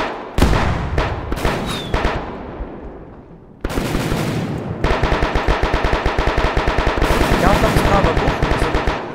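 Machine gun suppressing fire in the ROBLOX Novyrus MilSim military game: sharp separate shots at first, then after a pause long sustained automatic bursts in a steady rapid rhythm, loud and close.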